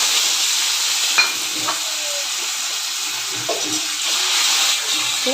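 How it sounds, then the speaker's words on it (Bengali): Bay leaf, dried chilli, cinnamon, cardamom, cloves and cumin sizzling in hot oil for a tempering, with onion to follow, making a steady hiss with a few light stirring clinks and scrapes, no talk. "এখন আমি ফড়নে দিয়ে দিচ্ছি তেজপাতা শুকনো লঙ্কা দারচিনি এলাচ লবঙ্গ"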